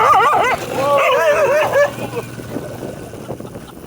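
Dogs on a durian farm in Thailand give short yips and whimpering barks close by, strongest in the first two seconds, then quieter background noise as a person speaks softly.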